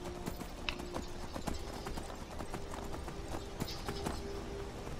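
Horse hooves clip-clop steadily in the Skyrim video game, a run of sharp, evenly spaced hoof strikes at moderate distance over a constant ambient background, with no talk.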